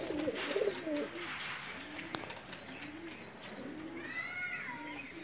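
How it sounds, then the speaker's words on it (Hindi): Pakistani flying pigeons coo in soft, repeated low phrases nearby, with a burst at the start and more near the end, while faint higher bird chirps join toward the close. "ये हम आपको थोड़े से परवाज़ी कबूतर दिखा रहे हैं"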